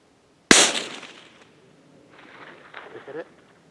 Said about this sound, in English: We'll be shooting at the water jug on the far right, distance 200 yards, with a 22 mag, using the 30 grain Hornady VMAX ammo.